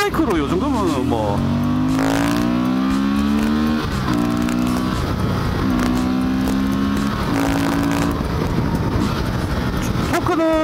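A Honda motorcycle engine revs and accelerates through several gear changes, its pitch climbing then dropping between shifts, loud and close with wind noise.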